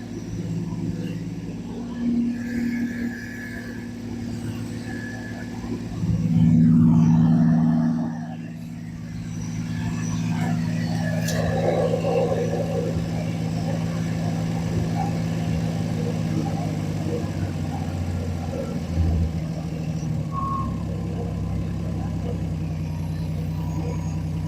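A Dodge Dart's engine idles steadily in a continuous low rumble that swells briefly as it revs, then settles back to an even idle, heard close.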